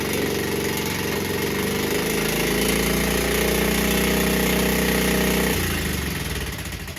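Honda Z50 minibike engine running in first gear, a steady close buzzing drone that rises slightly in pitch before dropping back near the end, with no talk.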